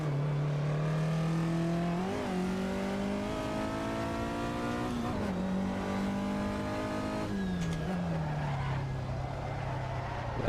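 Vintage Porsche GT race car in a racing video game, with a loud close engine drone rising in pitch and dropping at several gear shifts, a second car sweeping past near the end, and faint tyre squeal.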